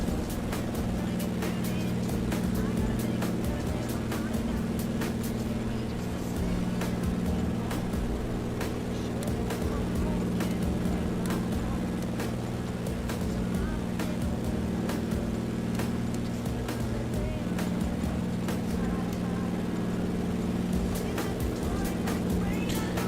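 Steady, loud drone of a DHC-2 Beaver floatplane's radial engine in Microsoft Flight Simulator 2020, flying a Harbour Air route from Vancouver Harbour, with an even low rumble throughout and faint talk beneath it.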